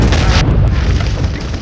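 A heavy artillery cannon blast in an action movie trailer rolls out as a loud, dense boom that rumbles on without break for over a second, deep and overwhelming.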